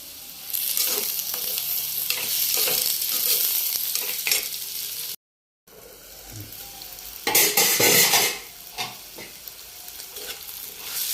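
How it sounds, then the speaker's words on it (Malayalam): Tomatoes with potatoes sautéing and being stirred in a pan for Kerala-style chicken roast, giving continuous frying sizzle with louder bursts of stirring and a brief silent cut midway. "തക്കാളിയും ചെറുതായിട്ടൊന്ന് വഴണ്ടി വന്നിട്ടുണ്ട്"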